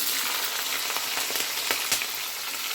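Lentils frying in hot oil in a pan; a dense, even sizzle with light crackles and occasional soft stir clicks, heard close and alone for a few seconds.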